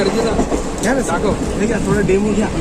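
A crowded passenger train arriving at a station rumbles and clatters nearby under a murmur of crowd voices, steady and fairly loud.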